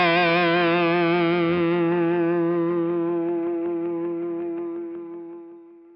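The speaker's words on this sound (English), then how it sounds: "The noise gate is definitely more apparent in the distortion mode." A sustained electric guitar chord through a TC Electronic Booster+ in distortion mode with noise gate rings out with a buzzy, harmonically rich tone, slowly fading before being cut off cleanly at the end.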